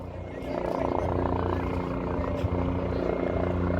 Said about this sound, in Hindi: हेलीकॉप्टर लैंड करने वाला है, आप देख रहे हैं